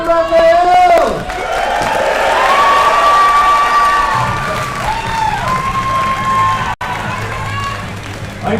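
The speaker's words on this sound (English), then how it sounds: "Everyone, let's have a cheer for Raphael!" A crowd at a knight fight event cheers and applauds for a fighter, starting with a loud roar and continuing as sustained clapping and whoops throughout.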